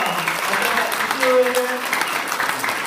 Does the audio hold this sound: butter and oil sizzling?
no